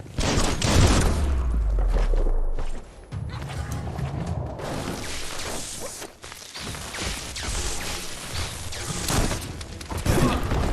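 Rapid gunfire in the video game Biomutant, loud sustained bursts of shots with clanks and impacts, pausing briefly before more volleys, dense and continuous with no talking.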